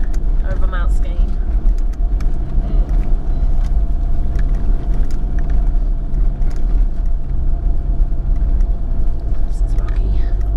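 A car drives slowly up a rocky forest track on a spur, a constant low engine rumble with scattered knocks and crunches from stones under the tyres, close and steady, with hushed voices faintly in the cabin.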